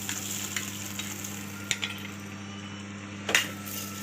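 Cashews sizzle in hot ghee with a steady frying hiss and occasional soft clicks of stirring.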